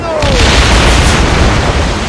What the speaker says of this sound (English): Our catapults will fire upon your order.